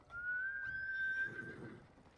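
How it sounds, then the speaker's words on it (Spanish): A horse whinnies in the samurai video game Ghost of Tsushima, a loud, rising and falling neigh heard alone and up close, with a soft rustle of hooves and movement underneath. "Este es mi caballo, tío."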